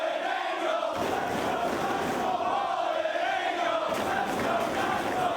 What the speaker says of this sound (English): And the crowd getting behind Christopher Daniels